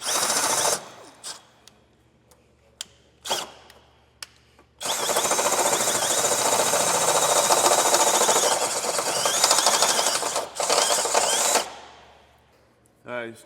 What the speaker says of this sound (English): I'm actually going to go with the step bit.